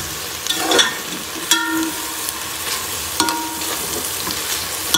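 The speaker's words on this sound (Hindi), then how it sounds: "ऑयल डालकर हम इसकी अच्छे तरीके से भुनाई करेंगे" Potato and minced meat keema frying in freshly added oil, a steady close sizzle with a few sharp spatula scrapes and clinks against the pan, no talking.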